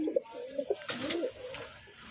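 A Madrasi pigeon with a white head and pearl eyes coos softly in a loft, a few low throaty coos close by under faint background noise.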